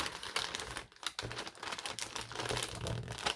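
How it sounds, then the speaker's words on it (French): Small ribbons slid into a pouch, giving soft crinkling and rustling of paper or plastic packaging, close and quiet, in uneven bursts. "Je glisse les petits rubans de façon à ne pas les plier dans la pochette"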